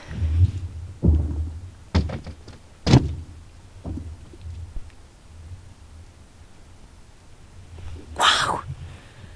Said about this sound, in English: I've never heard the ice make this kind of noise.